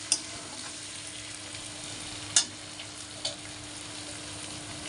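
Chicken kosha frying gently in a pan, a soft steady sizzle with a few sharp clicks of a spoon against the metal, quiet and close with no one talking.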